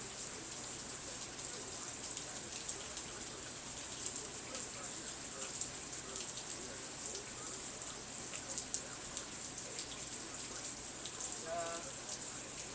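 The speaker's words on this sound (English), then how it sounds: "Just some sun showers." Sun-shower rain falls in a steady, even patter of drops on surfaces, continuous and moderately close, with a high thin background tone throughout.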